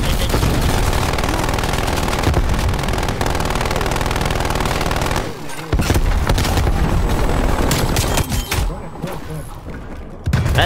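Sentry gun in Call of Duty: Cold War fires in dense, rapid automatic bursts, loud and near, with a short pause midway and a voice talking over the gunfire.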